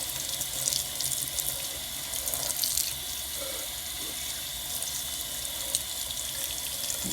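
Hot water pours steadily from a tap over the metal parts of a Remington 1858 revolver, a continuous close hiss and splash with small clinks of metal under the stream throughout.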